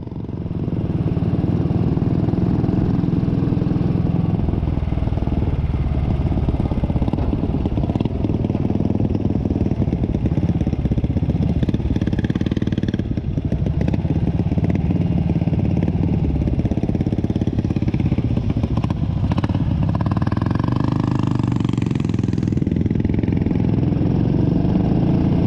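Big single-cylinder engine of an Indian Velo 500 motorcycle, an Italian-framed machine with British iron, runs steadily with a loud, close, thumping clatter, continuous and alone without any talk.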